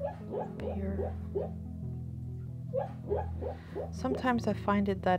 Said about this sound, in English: if you can hear the sound in the background now, that's my dog